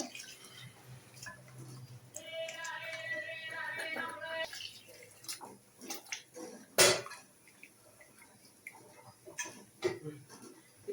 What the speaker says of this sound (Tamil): வந்து இது முழுகிற அளவுக்கு நல்லா தண்ணி ஊற்றிக்கோங்க